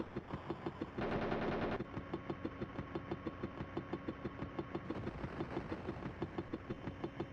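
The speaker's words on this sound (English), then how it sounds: "Firing at infantry with the cannons from a gunship." Helicopter gunship cannon in the Amiga game Gunship 2000 hammers away at infantry in a rapid, steady stream of thudding shots over a droning rotor and engine, with a harsher burst of noise near the start.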